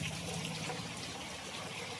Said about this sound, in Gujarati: જોવો ને પાણી બધા વહેતા થઈ ગયા છે અને વરસાદ લગભગ અડધી કલાકથી શરૂ છે